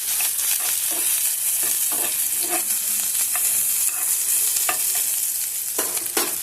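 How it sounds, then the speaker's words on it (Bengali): Grated ginger and chopped green chillies fry in hot oil for a potato curry, a steady close sizzle with repeated stirring scrapes throughout, no voices. "কাঁচা লঙ্কা আর আদাটাকে আমি একটু ভালো করে ভেজে নেব।"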